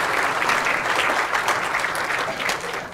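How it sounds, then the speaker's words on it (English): A conference audience claps for student presenters at a climate plenary session, producing a loud, continuous wash of applause throughout. "let's have one more round of applause for all of our bright spots"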